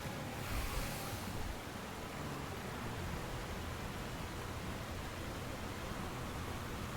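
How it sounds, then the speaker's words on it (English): Water rushing down into a drain after a heavy shudder in the horror game Spirit Hunter: Death Mark, a steady, broad wash of flowing water that holds at an even level throughout, with a slightly stronger surge near the start. "There's a heavy shudder and the sound of movement. The pooling water suddenly starts sweeping one direction down into the drain."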